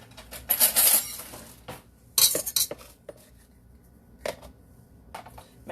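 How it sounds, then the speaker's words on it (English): A small knife is taken out and handled among kitchen utensils while baking oatmeal raisin spice cookies, with several close metallic clinks and rattles of cutlery, separated by quiet pauses. "Let me get my little knife"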